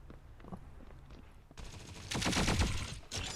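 Automatic gunfire in the mobile shooter T3 Arena builds from faint, scattered shots into a loud, dense volley of rapid bursts near the end.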